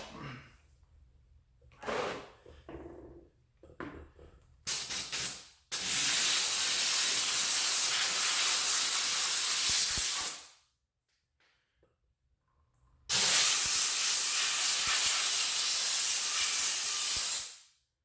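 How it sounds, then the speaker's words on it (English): After a few faint clicks and knocks, a Shark Ultra steam cleaner blasts two long, loud hissing sprays of steam up close onto cast aluminum engine parts, separated by a few seconds of silence. "This is the Shark steamer. Shark Ultra steamer."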